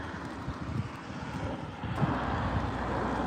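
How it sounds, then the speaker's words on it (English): A passenger airplane departing from the airport at Rovaniemi in the off season, its broad engine roar steady and fairly distant, mixed with wind noise and swelling a little toward the end. "Okay, the plane is leaving."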